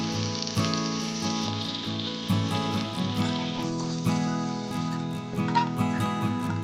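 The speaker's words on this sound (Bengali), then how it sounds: "অল্প তেল দিয়ে কেটে রাখা আলুগুলো একটু লাল লাল করে ভেজে নেব" Cut potatoes fry in a little oil in a wok, giving a loud, steady sizzle with crackling bursts and occasional stirring scrapes, with no talk.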